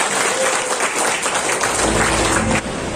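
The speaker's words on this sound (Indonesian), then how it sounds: "Tepuk tangan sekali lagi buat Pak Zainal." Audience at an award testimony event bursts into loud, dense applause, a continuous wash of many clapping hands that holds steady and drops slightly near the end.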